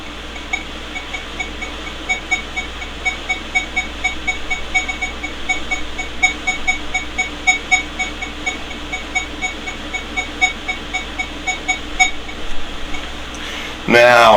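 A Minelab Legend metal detector emits faint, evenly repeating target tones over a low steady hum, quiet beeps pulsing throughout before a brief louder burst at the end.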